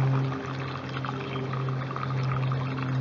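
Roughly thirty gallons of water pour out of a Wanchor bag lying on flat ground, a loud, close, steady gushing that runs without a break.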